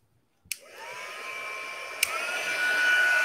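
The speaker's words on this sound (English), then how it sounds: "And now I'm going to heat set it." A heat tool switches on and whirs with a steady rising blow and high whine while heat-setting embossing on a handmade card, with a click midway.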